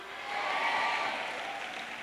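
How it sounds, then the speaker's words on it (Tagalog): A burst of clapping hands at a church worship service, a steady dense patter that swells and holds for a couple of seconds, with no voices over it. "palakpak naman kayo"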